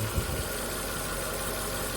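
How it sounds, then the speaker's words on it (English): A Nissan Micra K12 engine idles with an automatic transmission, heard up close in a garage. A steady low hum and mechanical drone run at an even level, with one small bump near the start and no talking. "you need to check it while the engine is idling"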